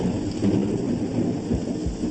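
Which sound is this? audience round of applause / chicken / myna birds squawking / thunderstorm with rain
thunderstorm with rain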